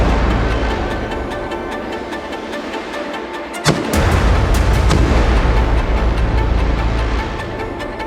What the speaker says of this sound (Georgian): ეს დიდი ალბათობით ნომერის გასროლა იყო 5-ვე ტყვია.